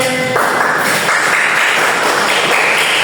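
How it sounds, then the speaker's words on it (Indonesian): Students in a classroom applauding together, a loud burst of dense clapping that keeps going for a few seconds. "Beri tepuk tangannya"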